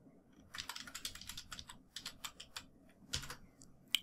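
Rapid, irregular clicks of a password being typed on a computer keyboard, close and fairly quiet, in bursts with short pauses and a sharper final key tap.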